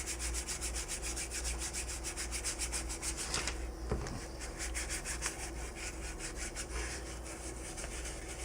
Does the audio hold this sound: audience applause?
no